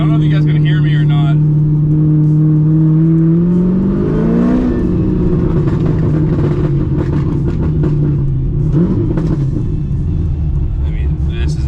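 A widebody LSX-swapped Corvette rumbles loud and close, its V8 revving up and settling into a rough, aggressive idle and cruise, with someone talking over the engine.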